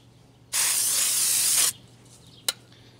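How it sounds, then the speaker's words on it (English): Aerosol brake cleaner is sprayed onto a car brake rotor in one loud, close hiss lasting just over a second, followed by a brief sharp clack and quiet. "I'll take what little brake clean I have left."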